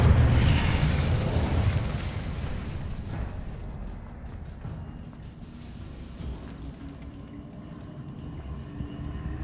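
Incendio fire spell cast in Hogwarts Legacy, a loud whooshing burst of flame at the start that fades into a crackling, rumbling tail, then quieter ambient game sound.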